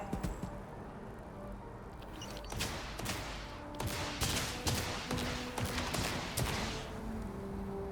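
Gunfire in the space RPG Starfield, a rapid run of sharp shots and bursts clustering through the middle and latter part, fairly loud against a busy game background.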